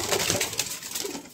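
A pigeon at a Kanpur pigeon-fighting gathering gives a soft, close, throaty coo lasting only a moment, with no voices over it.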